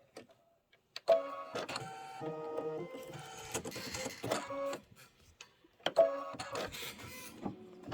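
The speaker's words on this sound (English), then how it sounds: "This is going to be another minute of stitching." Computerized embroidery machine stitching a Kimberbell design, rapid mechanical whirring and clicking in quick bursts with brief pauses, close and fairly quiet.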